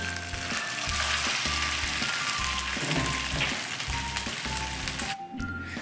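Food frying in hot oil in a pan on a gas stove, a steady loud sizzle running throughout alongside a rhythmic low thumping, no voices.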